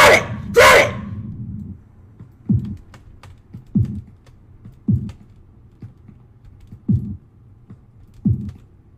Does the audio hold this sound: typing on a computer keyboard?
yes